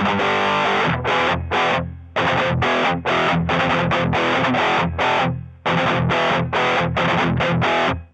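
Heavily distorted electric guitar through an 808 overdrive and a distortion pedal, playing loud chugging chords in short bursts with brief pauses, a thick saturated overdriven tone.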